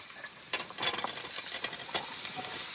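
Chunks of bottle gourd go into a pan of frying potatoes, with a soft sizzle and scraping, stirring rustles that swell briefly and then settle into a steady fry.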